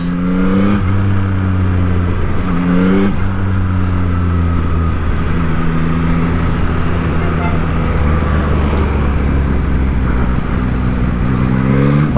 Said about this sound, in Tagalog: traffic dito sa bandang Matina